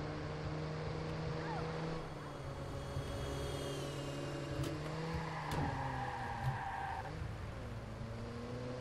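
A car in the video game Watch Dogs drives along with a steady engine hum and revving. Tyres give brief squeals, and there are some other game sounds, all fairly faint.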